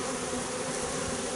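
A small swarm of honeybees gives off a dense, steady buzzing drone that stays close and loud throughout, with no voices.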